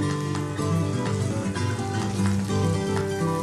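Chopped tomatoes hitting hot oil in a pan sizzle with a steady, crackling hiss, close and fairly loud, continuing evenly for a few seconds as they cook for a restaurant-style chicken shashlik gravy.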